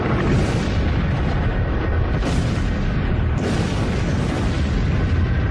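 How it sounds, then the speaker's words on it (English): A meteor fireball explodes over Siberia's Tunguska forest as a loud, deep, unbroken roaring rumble that fills the whole stretch with sustained blast noise and no voices. "the fireball entered our atmosphere and violently exploded above Siberia's Tunguska forest"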